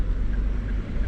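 Wind rushes through an open car window while driving, a loud steady low buffeting roar with no speech.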